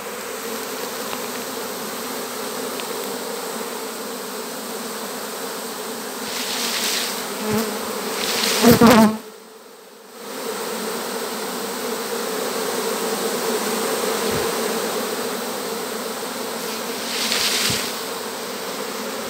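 A swarm of honey bees hums steadily and close for the whole stretch, a dense continuous buzz with a few brief louder surges and one short dip, no voices.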